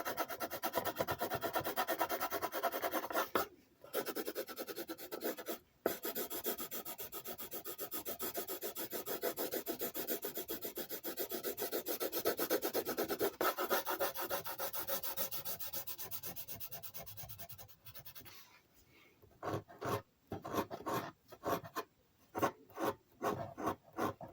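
Pencil or marker rubbing steadily across paper while drawing and coloring a guardian angel silhouette, a continuous close scratchy scrubbing that breaks briefly, then turns into short separate strokes near the end.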